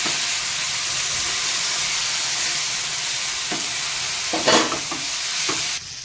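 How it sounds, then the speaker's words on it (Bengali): Cabbage pieces fry in a pan with a steady, loud sizzle, broken late on by a few sharp clattering scrapes as they are turned. "আমার কপিগুলো ভাজা হয়ে গেছে, আমি নামিয়ে দেব।"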